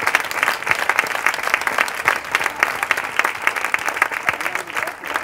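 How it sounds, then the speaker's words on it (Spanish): Audience at a regional Partido Popular political gathering breaks into lively applause, many distinct claps in a dense, steady rhythm lasting several seconds, with faint voices mixed in. "pues darle un aplauso"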